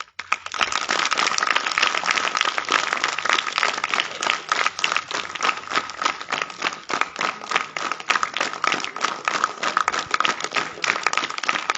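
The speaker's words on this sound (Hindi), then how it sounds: "तालियां बजनी चाहिए" An audience at a yoga class held at a government high school claps for nearly twelve seconds, a dense, lively burst of many hands that continues without pause.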